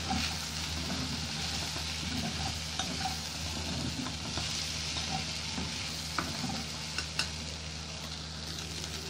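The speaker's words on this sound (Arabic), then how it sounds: "ونشوحها تاني مع بعض" Onions and garlic sauté in a hot pan for chicken fajita, giving a steady close sizzle with soft scraping stirs and occasional light clinks throughout, no voices.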